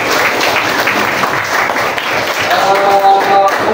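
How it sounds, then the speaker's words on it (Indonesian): Students in a vocational high school classroom applaud after a career orientation talk, a steady, fairly loud patter of clapping throughout with faint voices underneath. "Kasih tepuk tangan."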